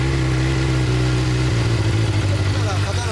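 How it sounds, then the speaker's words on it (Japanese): A custom Suzuki Katana GSX750S with a Nojima exhaust runs close by with a loud, throbbing engine note that shifts pitch partway through, while people talk over it. "ほな、刀のエンジン音聞かせてもらおうかな"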